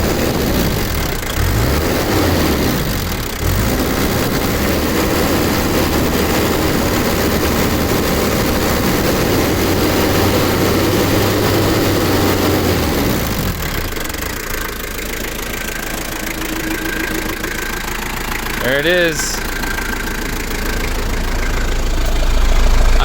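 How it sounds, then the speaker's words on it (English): A diesel vehicle with a MagnaFlow exhaust mounted ahead of the passenger rear tire idles loudly nearby, with a steady knocking clatter and a gruff rumble that dips and swells; someone speaks briefly over it. "You know, these diesels are loud and kind of obnoxious, but that's why I like it."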